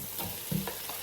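A spoon stirs masala frying in a pan for chicken biryani, a short scrape over a steady sizzle, close and fairly quiet, with no talking.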